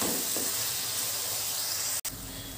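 Chopped onions fry in hot oil for a crab curry, giving a steady, loud sizzling hiss throughout that breaks off for a moment near the end before resuming.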